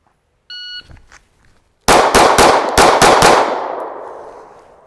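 A short electronic shot-timer beep, a brief pause, then six sharp pistol shots from a Zev Z320 X Compact fired in rapid succession, loud and close, ringing out with echo afterward.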